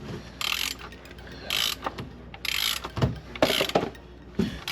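A ratchet tool clicks in four quick bursts, each a rapid run of pawl clicks, while loosening the oil filter on a Toyota Highlander, close and clear with short pauses between strokes.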